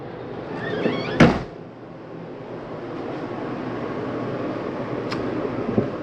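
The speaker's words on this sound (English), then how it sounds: "I'm going to go ahead and close this door" The door of a 2021 Mesa Ridge 294RLS travel trailer shuts with a single sharp thump, followed by a faint click a few seconds later, under a steady background hum.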